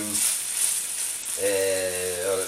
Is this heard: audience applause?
no